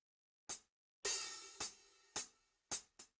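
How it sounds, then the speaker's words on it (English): Dry MIDI hi-hat from a programmed drum kit with no effects, struck six times in an uneven pattern with crisp bright attacks and short decays, one hit ringing longer, played alone. "So the hi-hat without effect sounds like this"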